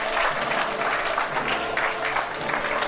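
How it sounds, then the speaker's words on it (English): Live podcast audience at a London podcast festival breaks into sustained, dense applause, a steady wash of many hands clapping at once, filling the room evenly for the full stretch. "Big round of applause."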